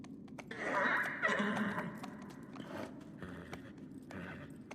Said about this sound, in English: Can you hear the clippy cloppies of the horsey?